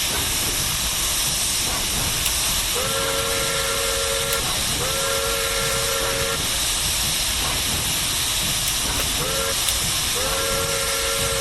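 A steam locomotive in Train Simulator Classic hisses steadily and loudly throughout, with no HUD in use, while a tonal whistle-like sound sounds in several repeated bursts over the constant rush of steam.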